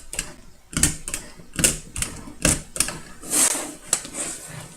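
Stapler punching staples through watercolour paper into a wooden board, a series of sharp, fairly loud mechanical clacks at roughly regular intervals, about one per second, close up with no talking.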